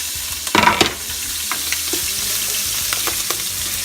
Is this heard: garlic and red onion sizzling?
yes